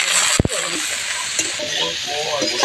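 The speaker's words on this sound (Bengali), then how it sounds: "তেল দিয়ে দিলাম কড়াই কপিটা ভেজে নেবো কপিগুলো ভেজে নেবো" Cauliflower fries in hot oil in a wok (kadai), giving a steady loud sizzle with a brief clatter of stirring near the start.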